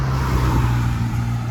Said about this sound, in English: I'll just wait for the traffic to go past